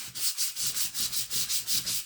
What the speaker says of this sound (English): again, I'm just going to come in and I'm just going to lightly sand over the paper.